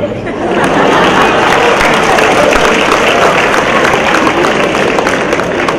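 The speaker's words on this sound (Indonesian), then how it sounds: "anda semua boleh tepuk tangan sekarang" A polytechnic audience in Penang applauding at a student forum, loud sustained clapping from a large crowd, with some chatter and laughter mixed in throughout.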